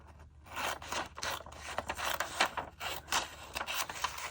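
Scissors cutting through a sheet of paper, a series of close, quiet rasping snips in an irregular rhythm.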